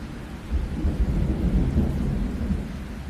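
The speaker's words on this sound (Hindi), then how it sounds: "अचानक बारिश शुरू हो गई। दूर कहीं बिजली कड़कने की आवाज आई।" A steady low rumble of thunder rolls beneath continuous rain, with no voices present.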